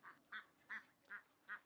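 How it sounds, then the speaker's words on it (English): Ducks quacking beside the water in a square in YunFu, China: five short, evenly spaced quacks, moderately near but fairly quiet, with no talk over them. "Oh, here we have a heap of ducks here."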